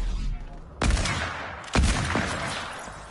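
Two heavy gunshots in a video game, roughly a second apart, each a sharp crack that fades into a lingering rumble over steady background noise.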